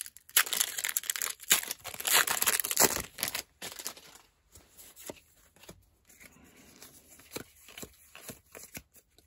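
Pokemon Evolving Skies booster pack wrappers are torn and crinkled up close in loud, dense bursts of crackling foil, followed by quieter, intermittent rustling and handling.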